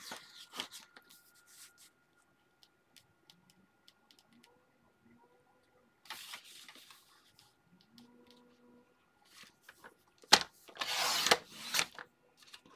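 Paper being cut for a beginner's scrapbook album: quiet handling and rustling for most of the stretch, then a louder, brief scraping cut near the end, with no talking.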